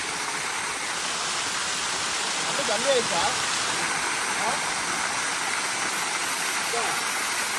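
Water at a private falls in Courtallam pours down in a steady, dense roar that fills the whole scene, with no break or variation.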